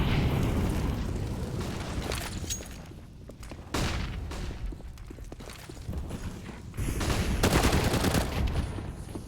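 Pistol fire from a CZ in a professional Counter-Strike match on the Mirage map, heard as sharp, repeated shots and bursts of gunfire amid other weapon noise, loud and close throughout.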